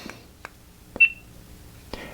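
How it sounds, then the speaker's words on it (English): A Sena motorcycle helmet communicator gives a single short, clear electronic beep to signal that recording has started, surrounded by a few soft clicks in a quiet setting. "I did get a little beep in my helmet to let me know that it's recording."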